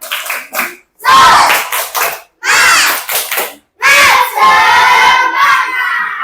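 A classroom of children split into named groups performs a tepuk semangat clapping chant: loud, rhythmic bursts of shouted unison voices and claps in several short phrases, with brief pauses between them.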